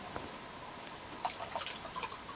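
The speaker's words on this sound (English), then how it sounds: "just pour myself a cold one." A cold drink poured into a glass indoors: a faint, brief liquid trickle with a few small splashy drips, quiet and close, with no talking.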